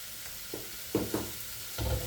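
Garlic and onion sautéing with squid in a pan, a faint sizzle under a few soft scraping stir strokes spaced irregularly, close and quiet.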